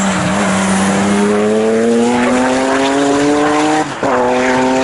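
An Aston Martin race car in a GT Challenge qualifying session at Snetterton circuit roars past with a loud, rising engine note. It holds close, then drops in pitch abruptly as it passes.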